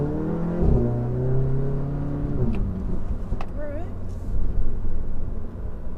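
An Audi A3 (Mk7) with a throttle response mod accelerating, its engine note rising steadily and then shifting gear partway through, heard from inside the car with moderate loudness and no talk.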